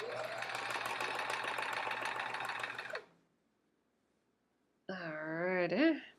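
Sewing machine stitching quilt block rows together: a loud, close, fast mechanical whir running steadily for about three seconds, then silence, followed by a brief rising voice or moan near the end.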